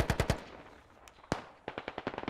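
Rifle and machine-gun fire in the Squad video game on a Fallujah map: a quick burst of three shots, a lone loud shot, then a rapid string of near bursts, with quiet gaps between.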